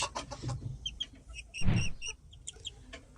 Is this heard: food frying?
no